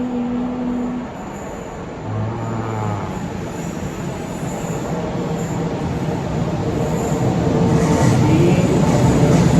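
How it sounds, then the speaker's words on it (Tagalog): An airport-bound train pulls in and rolls along the rails near Krakow, Poland, a loud continuous rumble carrying faint wheel squeals and tonal whines that build toward the end. "So nandito na ang train ko. Going to airport."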